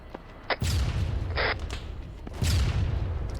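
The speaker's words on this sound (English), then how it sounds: "And you still hear AT firing." Anti-tank weapon fire in a military video game, two heavy booming blasts about two seconds apart, each with a sharp crack and rumbling low tail, moderately loud against a quieter background.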